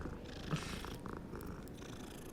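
A cat in the video game Hogwarts Legacy purrs softly and steadily, a faint continuous rumble with no talking.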